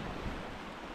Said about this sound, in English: We have like a 14-15 mile hour wind, a north wind to be exact.